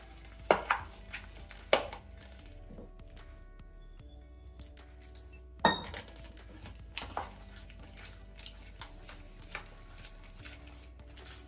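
Batter for betel-leaf bajji being mixed in a bowl as water is gradually added: soft, wet squishing and stirring with a few sharper clinks against the bowl, quiet and close, with no talking.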